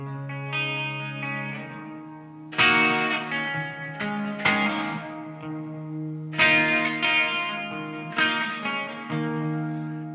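Electric guitar played through a T-Rex Binson Echorec reverb and echo unit, sustained chords struck a few times with long, shimmering repeats and a wash of reverb trailing each strum, no voice.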